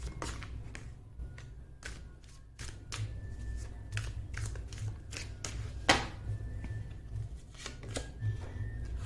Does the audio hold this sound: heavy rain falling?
no